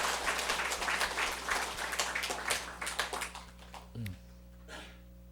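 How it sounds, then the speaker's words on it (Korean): A church congregation at a Sunday service claps together, a dense burst of applause that fades out after a few seconds with a short tone and faint sounds after it, under a low steady hum. "박수 한번 치겠습니다."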